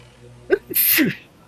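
A single sharp sneeze, a quick breathy intake then an explosive burst, loud and close, in an otherwise quiet room.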